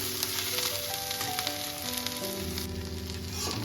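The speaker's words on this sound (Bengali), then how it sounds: "আমি হালকা একটু ভেজে নিই" Something fries in a pan until lightly browned, a continuous close sizzle with faint tonal music running underneath.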